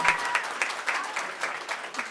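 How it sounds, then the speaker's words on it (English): Applause from a conference audience at a photography event stage, a short burst of clapping with a few distinct nearby claps standing out over the rhythmic crowd patter. "let's do a round of applause for Marina."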